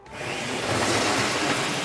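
An unmodified belt sander races down a drag track as a loud, steady, close whirring roar of a power tool that rises quickly and holds for under two seconds.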